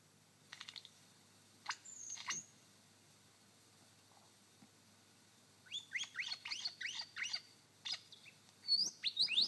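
A lyrebird mimics crimson rosellas in a forest, giving a few isolated chirps early on, then a dense run of sharp, bright tweets and whistled notes close by near the end.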